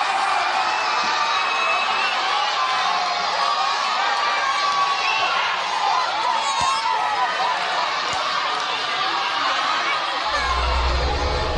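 Dense crowd noise from a mass of people celebrating Pakistan's win over India at a mosque in Mumbai, a steady roar of cheering and excited voices with bursts of laughter throughout, loud and continuous.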